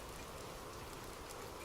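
Rain falling in a steady, dense hiss of drops with no breaks, moderately faint and heard alone.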